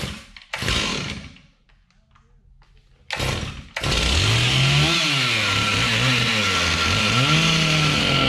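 A power saw cutting a wooden table beam, with a couple of short bursts and then a sustained loud, buzzing whine whose pitch wavers as the blade works through the wood, close by and steady.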